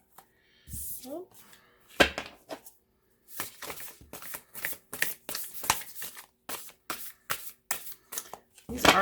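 Tarot cards being shuffled up close in a series of short, crisp riffling bursts, separated by brief pauses and quiet handling.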